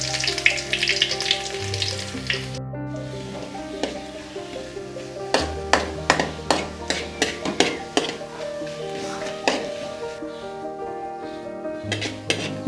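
Curry leaves and finely chopped onion frying in hot oil after mustard seeds for a tempering, a bright crackling sizzle with sharp spits and pops, plus occasional clinks of a spoon against the pan, close up.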